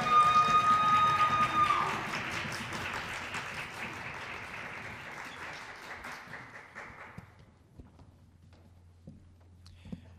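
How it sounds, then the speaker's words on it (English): A group of children claps hard to welcome a singing ensemble, a loud burst of applause with a shout at the start, tapering over several seconds into scattered claps and quiet. "Let's say welcome to the Jerry Ensemble and clap as hard as we can"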